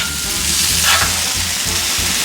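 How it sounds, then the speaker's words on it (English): Sausage, onions, peppers and celery sizzle on a Blackstone griddle, a loud, steady, close frying hiss with soft scraping underneath and no talk. "I'm gonna put the sausage back on here to continue cooking"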